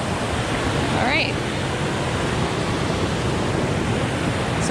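Coliseum Falls, a waterfall near Fawn Pool on a brook trail, gives a steady, dense broadband roar with no breaks, heard alone at moderate distance.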